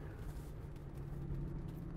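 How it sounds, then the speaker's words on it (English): Exhaust brake on a 2018 Dynamax Isata 5 Series 36DS motorhome, giving a steady, deep low drone with a constant hum underneath, continuous and fairly close for the whole stretch. "Exhaust brake sounds good. Has a good, deep sound to it."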